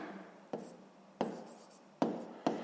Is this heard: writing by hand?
yes